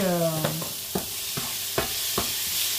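Onions frying in a pan for beef quesadillas, a constant bright sizzle with regular knocks of a spoon stirring through it, close and fairly loud.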